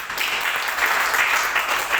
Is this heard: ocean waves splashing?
no